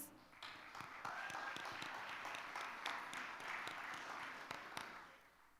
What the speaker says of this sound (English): A huge round of applause for the parents.